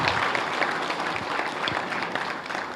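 Steady, full applause rises from a theatre audience after a playlet staged in Khammam, Telangana, with many hands clapping at an even level for a few seconds.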